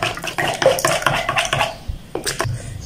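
A whisk or fork clatters rapidly against a bowl while eggs are beaten for a cheese omelette pizza, a quick run of close, sharp clinks that pauses briefly and then resumes.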